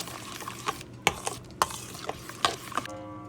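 Yeast being stirred into lukewarm water for puff puff dough, with a utensil tapping and scraping against a bowl in quick, close, irregular strokes, ending with a short ringing tone.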